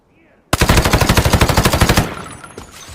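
An AR-57 rifle in the shooter game Arena Breakout fires accidentally in a single rapid automatic burst of about a dozen loud, close shots, followed by a fading echo.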